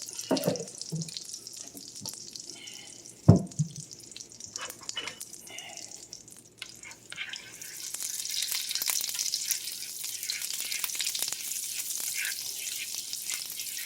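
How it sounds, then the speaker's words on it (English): Onions frying in a small drizzle of olive oil in a hot cast iron pan, cooking down to caramelize dark brown; a steady sizzle rises and stays fairly loud, with a sharp clank near the start. "So we want these onions to caramelize nice, a dark brown."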